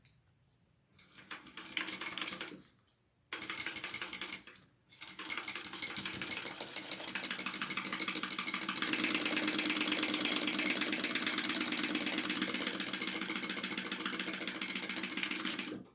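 A sewing machine stitches a seam, starting at the normal seam allowance and widening it along the way. The motor whirs in short bursts with brief stops, then settles into one long, steady run.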